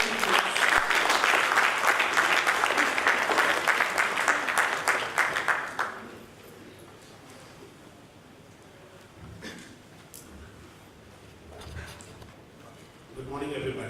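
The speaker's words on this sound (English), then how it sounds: "Let's have a huge round of applause for him, please." A conference audience gives a dense round of clapping to welcome a speaker, loud and sustained for about six seconds before it cuts off into a quiet room with faint rustles.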